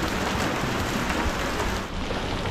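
Steady monsoon rain falls in Darjeeling, a dense, even hiss of drops with no pauses, fairly close and continuous, without anyone talking.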